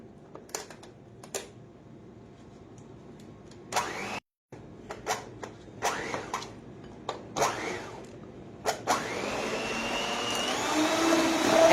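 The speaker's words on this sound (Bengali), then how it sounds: "অল্প অল্প করে আইসিং সুগার অ্যাড করব এবং বিট করতে থাকবো" An electric mixer beats icing sugar for a ship-themed cake, heard as a steady motor whir that rises in loudness toward the end, broken by scattered clicks and knocks nearby.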